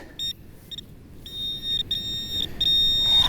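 An XP Deus Lite metal detector on its Deep programme gives a high, clipped electronic tone in short bursts over buried coke, then holds steadier, against faint background hiss.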